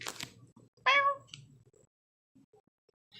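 A cat in a cat room gives one short, clear meow, close and fairly loud, over faint rustling and a few quiet background noises.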